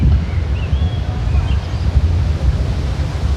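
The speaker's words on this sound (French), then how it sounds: "Il fait une espèce de début de tempête avec du vent" Strong wind at the start of a mountain storm in the Dolomites roars steadily into the microphone, a loud continuous gusty rush with no talking.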